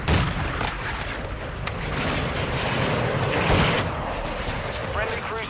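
Heavy booming blasts and rumbling gunfire from cruise missile strikes in Modern Warfare 2 Ground War, loud and continuous, one sharper burst standing out midway, with game voices faintly mixed in.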